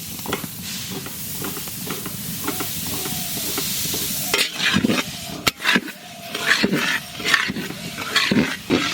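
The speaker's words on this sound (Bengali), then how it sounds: "কড়াই হালকা গরম হয়ে গেছে, এখন আমরা তিল ভাজে নেব।" Sesame seeds dry-roasting in a hot wok, a continuous hiss first, then bursts of stirring and scraping with crackling as the seeds move against the metal, close by.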